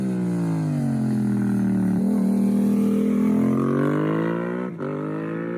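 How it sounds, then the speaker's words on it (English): A Yamaha R7 motorcycle with an aftermarket exhaust revs loud and close, its deep, buzzy engine note swelling and dipping in a continuous sweep with a brief blip near the end. "once you get an exhaust on these bikes, they sound fantastic."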